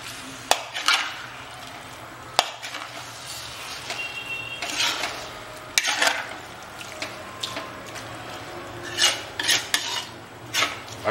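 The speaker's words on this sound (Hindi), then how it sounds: "अब इन्हें अच्छा मिला लेंगे।" A spoon scrapes and clinks in a pan as Rajasthani chicken bharta is stirred over high heat, giving irregular bursts of metallic scraping and wet stirring, close and fairly loud, with no talking.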